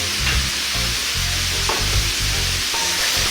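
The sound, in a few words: pork curry sizzling while stirred with salt, turmeric, chili powder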